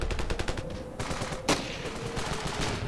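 Gunshots in the game Ravenfield, a steady stream of rapid shots at moderate loudness with one sharper crack standing out, no talking.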